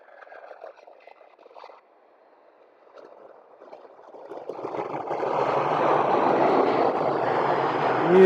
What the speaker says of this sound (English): Here's the London Luton flight.